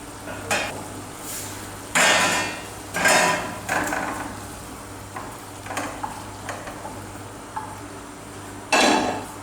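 Cooked mutton liver scraped from a pan into another vessel, with metal utensils clanking against the cookware in several sharp, separate knocks and scrapes, close and fairly loud.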